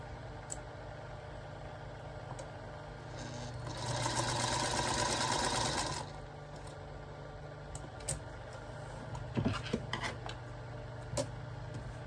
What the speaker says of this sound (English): let me sew something real quick